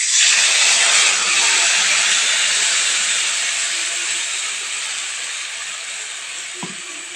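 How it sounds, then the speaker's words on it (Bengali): Whole garam masala spices and bay leaf hit hot oil in a pan for a rohu fish curry, giving a loud, bright sizzle that slowly fades, with a soft knock near the end. "আর গোটা গরম মশলা ফোড়ন দিচ্ছি"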